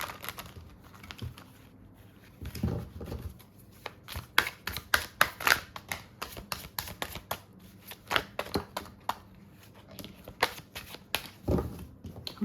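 Tarot cards are shuffled by hand in quick bursts of crisp, close riffling and soft tapping, with brief pauses between flurries, quiet and alone with no talk.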